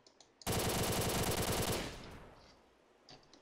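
A rapid-fire gun in Custom Zombies lets off one loud, sustained automatic burst of just over a second, then trails into a fading echo and quiet game ambience.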